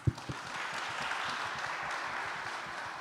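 An audience at an animal-welfare art competition awards ceremony applauds steadily, a dense even wash of clapping that opens with a few distinct claps and carries on at moderate volume.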